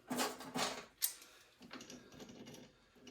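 Metal keys slid onto the arbor of a Harbor Freight surface conditioning tool, giving a few sharp close clinks and scraping rattles in short bursts with quiet gaps between.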